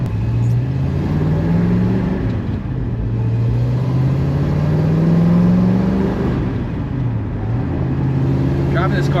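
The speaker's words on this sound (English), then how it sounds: "Driving this car is so much fun." Interior of an older car being driven on the road, its engine droning steadily with rising and falling tones as it accelerates and shifts, under a constant road rumble, while someone talks.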